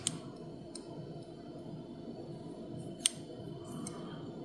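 A key turning in a 7-pin perforated lock cylinder, giving faint sharp metallic clicks at the start and again around three seconds, over a quiet background hum.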